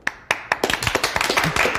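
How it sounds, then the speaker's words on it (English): A small crowd claps on request, starting with a few separate sharp claps that quickly build into a quick ragged burst of close hand clapping. "Please clap."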